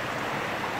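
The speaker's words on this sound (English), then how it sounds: "We've got the waterfall river coming down, got the waterfalls there" Steady broadband rush of a waterfall and river tumbling through Padley Gorge, continuous and fairly close, with no voices over it.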